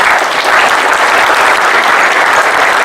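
Steady audience applause at a property investment training seminar, dense and even clapping filling the room throughout without a break.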